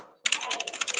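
Rapid keyboard typing starts after a brief quiet moment and continues as a dense, close clatter of keystrokes.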